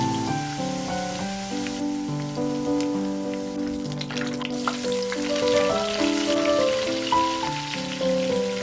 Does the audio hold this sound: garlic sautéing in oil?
yes